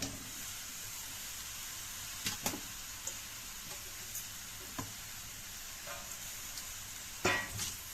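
Boiled raw plantain stir-fried in a pan for Tamil valakkai poriyal: a soft, continuous sizzle broken by occasional sharp knocks and scrapes of a stirring spoon, quiet and close.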